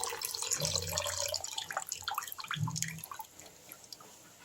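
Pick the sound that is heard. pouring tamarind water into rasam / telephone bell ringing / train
pouring tamarind water into rasam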